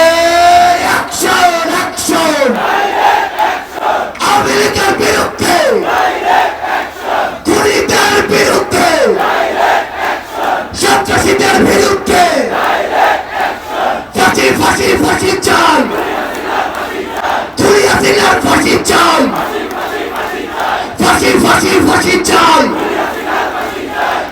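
Large crowd at Baitul Mukarram chanting political slogans in loud, rhythmic bursts, roaring calls and responses repeating in waves close by, with shouts rising over the mass of voices throughout.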